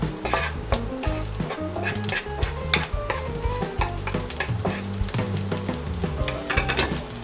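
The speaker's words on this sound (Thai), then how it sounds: "ผัดพอหอมนิดๆนะครับ" Canned fish and aromatics being stir-fried in a pan before kale is added, with a steady loud sizzle and repeated scraping and clinking of a spatula against the pan, no voices.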